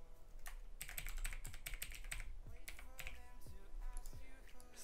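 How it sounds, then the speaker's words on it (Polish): A password is tapped out on a computer keyboard, with steady, close key clicks in short runs and brief pauses between them. "Wpiszemy sobie hasło."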